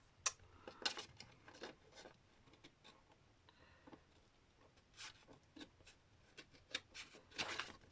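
Scissors trim music paper for a junk journal storage box, giving quiet, scattered snips and papery rustles spaced irregularly with brief pauses between cuts, close and soft.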